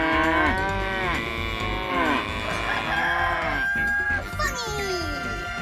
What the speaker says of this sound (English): Probably mooing cows, people. It's a serenade of cows.